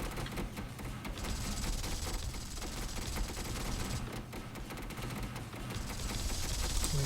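Small corvette spaceships fire their cannons in a StarDrive space battle, a dense, continuous barrage of rapid shots that rumbles on without pause, swelling louder toward the end.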